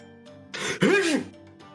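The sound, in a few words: voice imitating a sneeze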